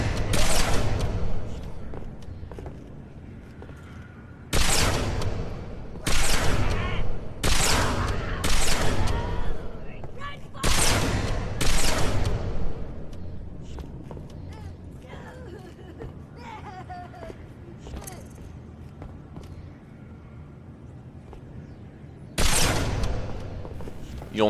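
Beam rifle fire in Halo 3 during a fight with brutes and grunts: a series of sharp, loud broadband shots at irregular intervals, some in quick clusters, over a background of game ambience and creature chatter.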